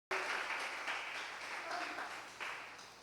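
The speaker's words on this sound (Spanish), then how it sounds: "Con gritos de júbilo, apláudale fuerte al Señor." A church congregation at a devotional service applauds loudly, a sudden full burst of dense clapping that holds steady with slight swells, close and energetic.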